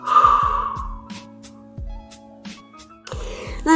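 A single soft exhale, breathed out while resting in a Pilates child's pose during an abs and inner-thigh workout, heard near the start over rhythmic background music with a steady beat.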